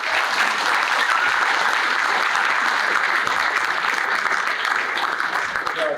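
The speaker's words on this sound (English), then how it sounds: "So please give yourselves a round of applause." A convention crowd at Sorcery Con 2024 claps in a steady, dense wash of applause that stays even and loud from start to finish.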